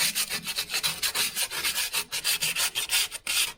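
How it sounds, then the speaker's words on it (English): Sandpaper rubbed by hand over a car exhaust pipe to clean the surface, a fast run of short rasping back-and-forth strokes, close and fairly loud with no talking. "I've got a bit of sandpaper and that's what we'll be using just to clean the area up"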